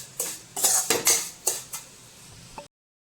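Vermicelli roasting in ghee with gram flour in a pan, stirred in about six quick scraping strokes of a spoon against the metal, close and alone before cutting to silence.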